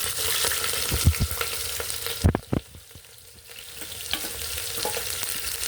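Mustard seeds, cinnamon, green chilies and onions fry in hot oil for a hotel-style mixed vegetable kurma, giving a steady close sizzle with a few sharp stirring clatters midway.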